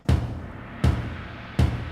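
Three deep, booming taiko drum hits from an orchestral sample kit sound at an even, slow pace, each ringing out with a low resonant decay.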